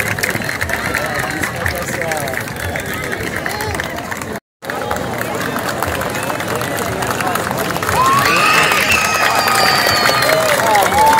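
Crowd applauding as the women's company of the Military Police marches past in an Independence Day parade in Paraíba, a steady wash of clapping and cheering mixed with babble and a brief dropout, swelling louder near the end.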